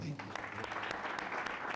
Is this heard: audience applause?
yes